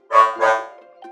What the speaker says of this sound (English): a very special robot dog because he uses something called artificial intelligence